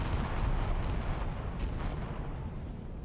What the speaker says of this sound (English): And then the cluster bombs hit.